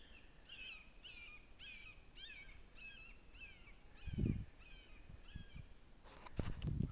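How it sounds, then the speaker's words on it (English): Outdoors in the San Diego River Valley near Lakeside, California, a red-shouldered hawk gives a steady run of about nine repeated, down-slurred screaming calls at mid distance, followed by a few dull thumps. "Red-shouldered hawk."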